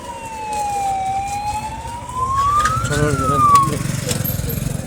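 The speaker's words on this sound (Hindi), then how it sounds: "एम्बुलेंस जा रहा है पार्सल मार्केट।" An ambulance siren wails past, its tone sliding up and down, over road traffic noise and some nearby chatter.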